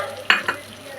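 Mustard seed and urad dal tempering tipped into a pot of cooked moong dal, giving two quick sizzling splashes close by, then a low simmering hiss.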